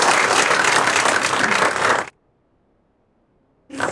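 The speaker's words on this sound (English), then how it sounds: "So a round of applause." Dense audience applause at an awards ceremony, loud and continuous for about two seconds, then cut to silence before resuming abruptly near the end.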